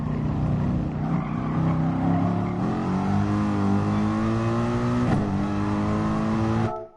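Race car engine in GT Sport, loud and steady close up, its pitch climbing in sweeping harmonic lines, then stepping through gear shifts near 2.6 and 5.1 seconds before cutting off abruptly at the end.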